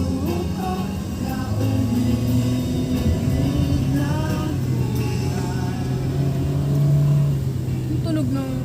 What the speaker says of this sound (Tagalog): Yung tunog ng kotse.